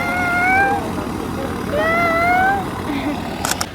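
A cat meows twice in long, drawn-out wails near the microphone, with a short click or tap at the end and faint background noise.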